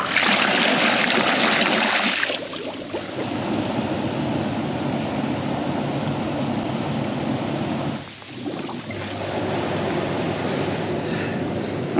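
Steady rushing and trickling water flows continuously into a hot tub, fairly close and even, with a brief dip in the flow partway through.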